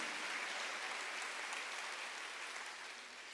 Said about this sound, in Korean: 박수를 하나 더 주세요.